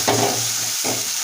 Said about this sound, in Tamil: இப்போ நம்ம கொஞ்சமாக இஞ்சி பூண்டு பேஸ்ட்டு போட்டுக்கிறோம்.